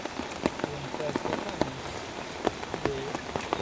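Heavy rain pours steadily during a fishing outing, a dense close hiss with scattered heavier drop impacts throughout; a faint voice sits low under the downpour.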